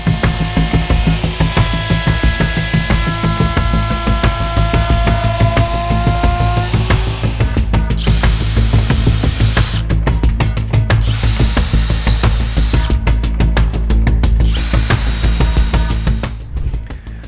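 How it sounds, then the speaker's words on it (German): Steady high-pitched whine of a handheld router milling wood to copy a shape for a homemade power rack joint, loud and close, with several brief cutoffs as the tool pauses and restarts. "Jetzt kann ich die Form mit der Oberfräse exakt kopieren."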